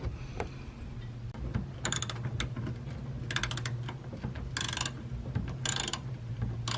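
A ratchet driving a 9/32 socket loosens a bolt on a Camaro ZL1 diveplane install, with bursts of quick clicking ratchet strokes between quieter handling noises, close up and without talk.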